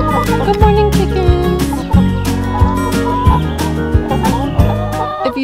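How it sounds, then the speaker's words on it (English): A chicken on a small farm clucks in a steady run of short calls, fairly close and loud, over a busy musical background with repeated low beats. "Good morning, chicken."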